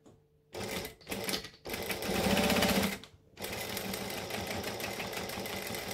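A sewing machine stitching along the edge of a shoulder bag, close up: several bursts of rapid mechanical whirring and clatter, a brief pause, then a steady continuous run, no talking.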